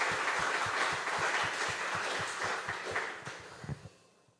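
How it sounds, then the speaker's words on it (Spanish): Church congregation applause during a sermon, a fairly faint wash of many hands clapping with audible rhythmic beats, gradually fading toward the end. "Dale un aplauso al Señor por eso, mi hermano."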